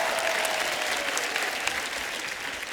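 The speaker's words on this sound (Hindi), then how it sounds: "एक बार जोरदार तालियां हमारे मेहमानों के लिए।" Studio audience on a Hindi TV comedy show bursting into steady, dense applause for the guests, a continuous wash of clapping heard alone with no talk.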